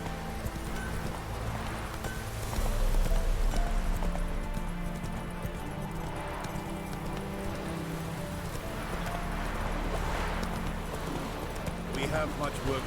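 Roach the horse gallops in Witcher 3 Wild Hunt, the hooves beating a steady, close rhythm that runs the whole way through over a dense game soundscape.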